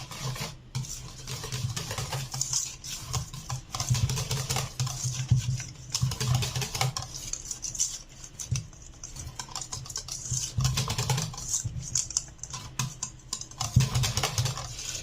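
Chocolate cake batter, made without sugar or butter, is stirred with cornstarch in a bowl, giving soft irregular scraping and tapping of the utensil, close and fairly quiet, with no talking.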